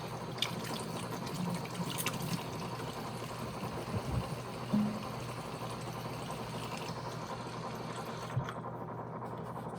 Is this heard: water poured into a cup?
yes